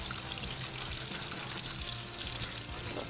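Tap water runs in a continuous, even stream while food is washed in a home kitchen, with a close, soft rush and no talking.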